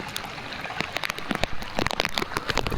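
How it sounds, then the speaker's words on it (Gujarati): Rain falls on a farm plot, heard as an irregular patter of close drops striking surfaces. The sound is light to moderate and grows a little busier toward the end. "જો વરસાદ ચાલુ છે અત્યારે."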